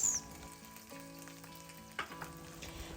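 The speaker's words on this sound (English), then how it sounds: "Stir it around and let it fry for a few seconds to release all that spicy" Pork mince and spicy bean sauce fry in a wok, a quiet steady sizzle with a tonal hum running beneath and a couple of faint utensil knocks.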